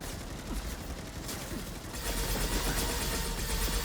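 Continuous in-game gunfire from a Mass Effect 2 firefight, a dense rattling barrage that grows louder and busier halfway through, steady throughout with no pauses.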